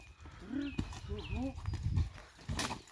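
Heavy draft horses, a working mare among them, stamp and shift their hooves, giving a couple of sharp, brief thuds close by beneath someone talking nearby.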